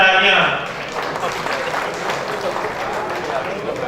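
Audience applause at a mushaira poetry gathering in Mumbai, a dense wash of clapping that is loudest at the start, then settles into steady sustained clapping and crowd noise.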